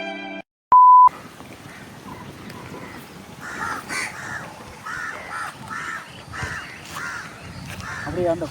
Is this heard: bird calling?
yes